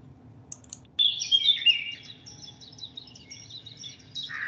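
Birdsong recording played back during an online art class: bright, high chirps and quick trills come in clusters over a quiet, low hum, fairly loud and close.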